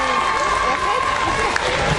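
A gathered audience applauds, a dense, continuous roar of clapping with crowd noise throughout, and a voice briefly rising over it.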